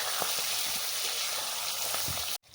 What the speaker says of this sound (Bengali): মাছের সঙ্গে পেঁয়াজ কাঁচা লঙ্কা রসুন ভেজে নিয়েছি